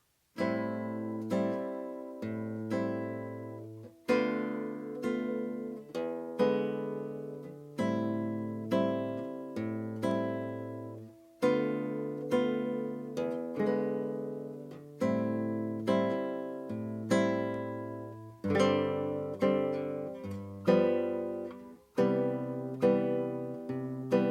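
Acoustic guitar strums the chords of a song in a steady rhythm, each strum ringing and decaying before the next, with no voice.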